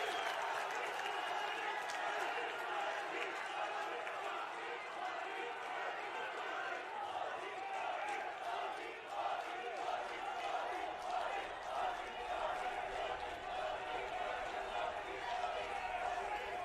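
A large crowd at a Dehradun, Uttarakhand event gives Prime Minister Modi sustained applause, a dense, even wash of clapping and cheering that holds steady at the same level from start to finish.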